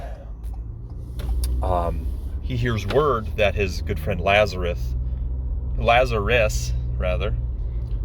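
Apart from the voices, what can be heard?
car driving on the road, heard from inside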